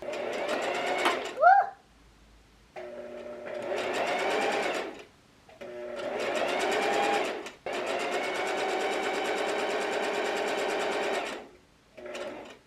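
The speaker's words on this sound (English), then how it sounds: "I have so much trouble sewing slippery fabric." A sewing machine stitches slippery fabric for a bag lining, running in several long steady bursts with short pauses between them, loud and close, with no talk over it.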